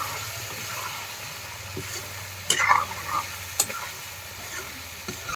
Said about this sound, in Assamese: এতিয়া জিৰা গুড়া দি পেলাই মাংসটো এতিয়া ভাজি আছোঁ